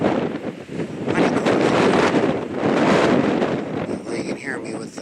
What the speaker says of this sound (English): you can hear me with the wind blowing